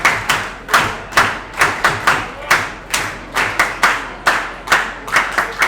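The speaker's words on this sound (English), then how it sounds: "clapping with the audience" Crowd in the stands at a baseball game clapping in a steady rhythmic beat, each loud clap close together and repeating about twice a second, with no voices heard.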